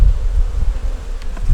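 Honey bees buzzing steadily around an open hive with a yellow-marked queen, a dense low hum close by and continuous, with no voices.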